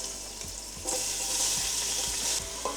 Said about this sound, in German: Zuerst Zwiebel, Knoblauch und Chilischote hineingeben und gleich anbraten.